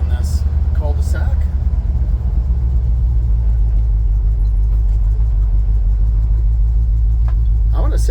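A 1966 Chevrolet C10 shortbed pickup rumbles steadily and loudly as it drives around a cul-de-sac, a deep continuous engine drone heard from inside the cab, with a man's brief speech at the start and end.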